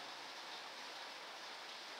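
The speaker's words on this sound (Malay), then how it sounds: "masjid pondok rumah ni pun dah hujan" Steady rain falls on a mosque and a pondok house, a continuous broadband hiss with no talk, fairly faint and even throughout.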